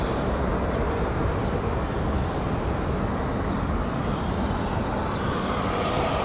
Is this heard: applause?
no